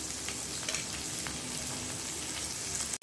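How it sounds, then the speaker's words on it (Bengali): Onion and raw mango fry together in a pan, hissing and sizzling steadily at close range, with occasional soft stirring and no voices. "তো এটাকে এখন ভাজি, আমি আমটাও ভেজে নিচ্ছি"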